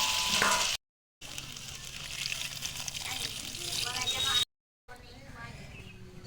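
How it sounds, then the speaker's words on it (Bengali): Water goes into a hot pan of jackfruit and prawn curry, sending up a burst of hissing sizzle that settles into a softer, steady bubbling fry. Two brief silent gaps break the sound. "কষানো হয়ে গেছে, জল দিয়ে দিচ্ছি"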